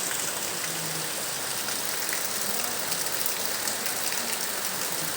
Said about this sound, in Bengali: একটু স্বস্তির বৃষ্টি শুরু হয়েছে